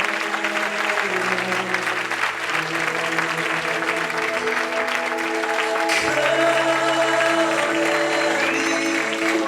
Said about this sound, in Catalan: un gran aplaudiment.